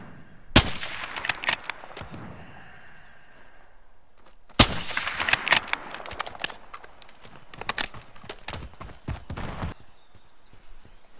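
Gunfire in Call of Duty: Warzone: a sharp shot opens a short burst, then after a pause a longer stretch of rapid, crackling shots rattles close by before trailing off.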